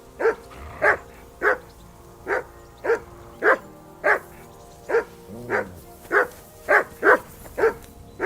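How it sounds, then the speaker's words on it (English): Dog barking in Kingdom Come: Deliverance 2, a steady string of about fifteen sharp, evenly spaced barks close up and loud, with a faint low whimper partway through and no talking. "That barking was a pain in the ass."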